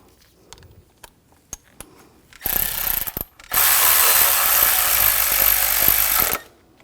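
A ratchet clicks close by while bolts are snugged down during a timing belt and water pump job on a 2004–2009 Audi A4, with a few scattered taps, then two bursts of rapid ratcheting, the second one long and steady.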